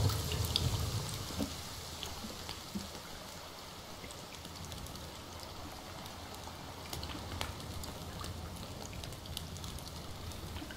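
Rain falls in a forest video game, a steady wash of drizzle and patter with occasional louder drops and no speech.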